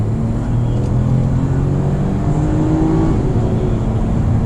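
Toyota Camry XSE V6 on a test drive, its engine a steady, loud drone heard from inside the cabin as the car accelerates through smooth gear shifts, with no talk.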